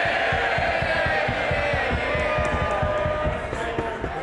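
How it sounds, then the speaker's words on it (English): MPs cheering and shouting in the House of Commons chamber, a dense, loud crowd roar with rhythmic thumping and banging throughout, sustained without a break. "Cheer him by all means, but don't damage."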